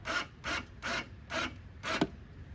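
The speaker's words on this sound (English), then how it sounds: "use our hive tool to get it loosened off of the queen excluder." A metal hive tool prying a wooden beehive box loose from a queen excluder: five rhythmic rasping scrapes, close and evenly spaced, ending with a small sharp click.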